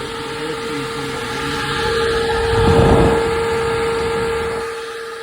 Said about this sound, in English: It's blowing far more air than I ever felt out of the factory fan